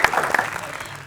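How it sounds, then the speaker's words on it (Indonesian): Audience applause for a guest at an Indonesian televised election-candidate talk show, a short dense burst of clapping that begins loud and tapers over about a second. "Tapi setuju tepuk tangan buat Bang Ucok dong."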